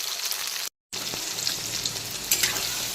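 Ginger, garlic, tomato and dry red chillies fry on a full flame, giving a steady loud sizzle that runs almost throughout with one brief silent gap near the start and a brighter burst toward the end.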